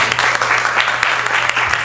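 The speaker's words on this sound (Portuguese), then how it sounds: "Aplausos." Applause from an audience at a 2015 talent night, a dense, steady wash of many hands clapping close and loud, continuous for the whole moment with no talk over it.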